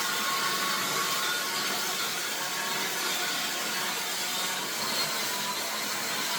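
A hair dryer blows over wet hair as it is dried, making a constant airy roar at an even level from start to finish, with no talking.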